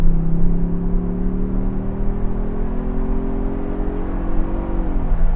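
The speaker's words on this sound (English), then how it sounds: "the 4-cylinder in here, they must have pumped in some fake engine noise because it sounds way more brawny" Four-cylinder engine of a 2024 Ford Bronco Everglades pulling under acceleration, a steady droning note that climbs gradually in pitch, loud and close from inside the cabin, with no talking.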